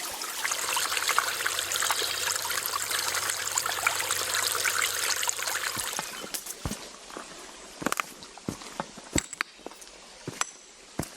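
A small creek runs over slate or shale rocks in a wooded state park valley, giving a steady close babble and trickle that fades after about six seconds into quieter flow with scattered sharp splashes and knocks.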